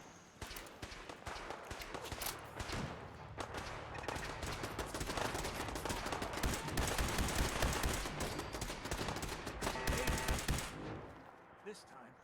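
Rapid, sustained gunfire from Fallout 4 fills most of the stretch, dense automatic bursts mixed with footsteps and game noise, loud and continuous before dropping off near the end.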